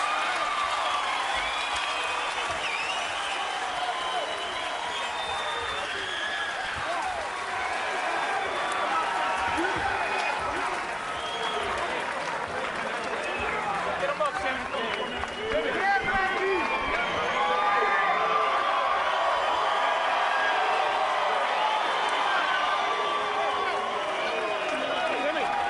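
A hometown crowd of about 2,000 fans at a welterweight boxing match, steady loud crowd noise with cheering, applause and babble rolling on throughout, swelling slightly in places.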